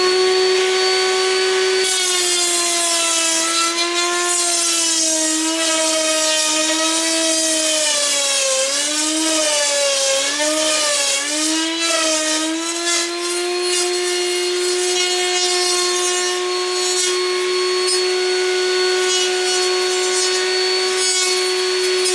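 A router in a floating mortise-and-tenon jig cuts a straight tenon on the end of a wooden workpiece, giving a loud, steady whine whose pitch wavers and dips through the middle of the cut before settling again.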